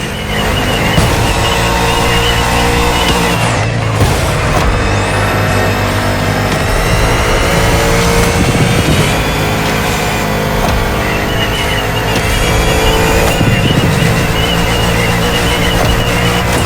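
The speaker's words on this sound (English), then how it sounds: "Bugatti served me one last exclusive piece of art on a plate. The Bugatti Vision GT." A Bugatti Vision GT hypercar in the racing video game The Crew Motorfest drones steadily through its engine for a sustained stretch, loud and continuous with shifting revs and no talking.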